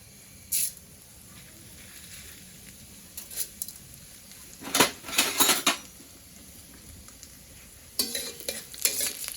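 Urad dal tipped into a frying pan and stirred, giving intermittent scraping and clattering bursts of a utensil against the pan over a faint sizzle, nearby with no speech.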